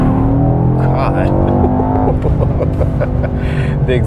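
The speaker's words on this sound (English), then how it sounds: "The exhaust sounds pretty good." A 2021 Mercedes-AMG E63 S sedan's exhaust rumbles deep and steady from inside the car while driving, a loud low drone with a rising tone, as the driver speaks over it.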